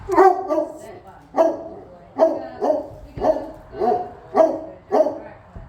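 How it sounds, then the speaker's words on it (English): A large English foxhound barks repeatedly, deep and resonant, in a steady series of about eight barks close by. "has also got that big, beautiful English foxhound bark"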